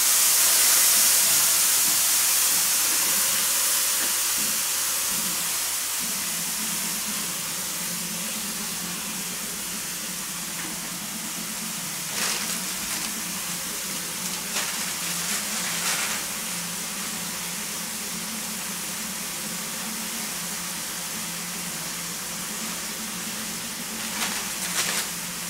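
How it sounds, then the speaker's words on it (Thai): Coconut cream fries with curry paste in a pan over medium heat for a Thai catfish curry, giving a steady sizzling hiss that starts loud and settles into a softer, constant fizz. "อันนี้เราจะเอามาผัดกับเจ้าพริกแกงก่อนนะครับ"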